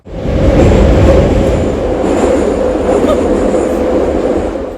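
A metro train rolls through an underground tunnel with a loud, continuous rumble and hiss, steady throughout with faint wheel noise and no clear talking.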